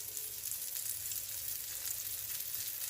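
Green tomato slices fry in a pan with a steady, even sizzle and crackle, close up and continuous with no talking.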